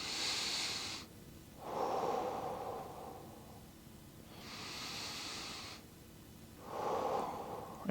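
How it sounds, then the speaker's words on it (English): Deep belly breathing during a desk-worker stretching routine: slow, airy inhales and exhales alternate in long even cycles, close and moderately loud, with no talking. "We're just breathing into the belly again."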